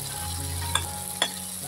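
A spatula stirs cooked tomatoes in oil in a pan, with a continuous soft sizzle and two distinct scraping knocks, close and alone.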